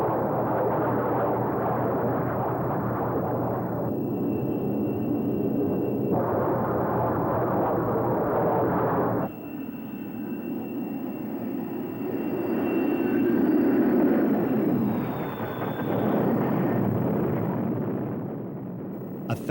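F-14 Tomcat jet roaring steadily on approach to an aircraft carrier deck, a loud sustained engine rumble that shifts in pitch and swells midway, with faint radio chatter.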